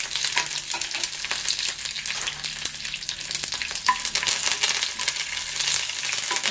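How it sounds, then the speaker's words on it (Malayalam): Mustard seeds and curry leaves splutter in hot oil, a dense crackling sizzle full of sharp pops and spits; one word is spoken briefly over it. "കടുക് പൊട്ടി വരുമ്പോഴേക്ക് നമുക്ക് കുറച്ച് കറിവേപ്പില ഇട്ട് കൊടുക്കാം"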